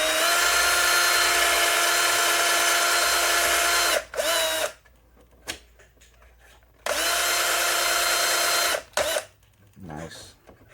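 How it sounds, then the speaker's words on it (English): Power drill boring out a plastic slash dust cover: two loud, sustained high-pitched whining runs of about four and two seconds, each stopping abruptly, separated by quieter gaps with faint handling noise and brief talk. "let's drill this out more"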